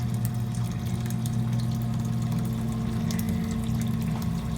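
A double-insulated submersible sump pump drains water from a home water heater, giving a loud, steady motor hum under continuous rushing, gurgling water, with no speech.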